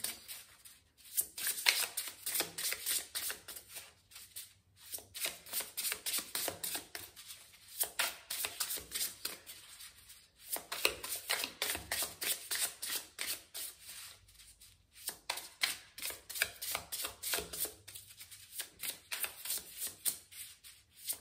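Tarot cards are shuffled in repeated bursts of crisp riffling and flicking, close and fairly soft, with short pauses between rounds and no voices.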